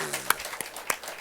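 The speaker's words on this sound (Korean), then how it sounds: "우리 박수 한번 합시다." A church congregation at a Sunday afternoon worship service claps, with a few sharp, evenly spaced claps standing out over a faint murmur of voices in the room.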